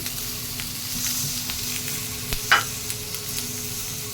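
Frying for a chutney in a pan gives a constant close sizzle, with light stirring taps and one brief sharper clink midway, and no one speaks.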